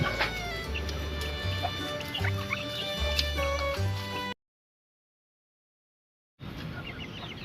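Sick young chicks suffering from snot and snoring breathing make repeated soft clucks and peeps with rhythmic low pulses, heard close. The sound cuts out for about two seconds, then the chirping resumes.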